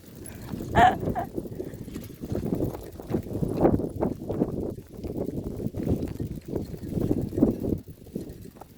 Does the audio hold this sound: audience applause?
no